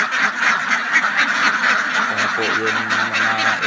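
Several domestic ducks quack close by in a repeated, overlapping chorus, with a person talking over them.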